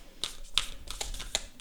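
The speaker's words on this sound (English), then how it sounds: "Let's shuffle again." Tarot cards shuffled by hand in a quiet room, a few crisp snapping riffles and light taps spaced irregularly, close and soft with no talking.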